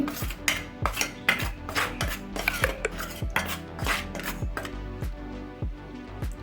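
Gram flour, corn flour and rice flour stirred together in a bowl for a little gourd fry batter, a spoon clinking and scraping against the bowl in a steady rhythm of repeated close strikes.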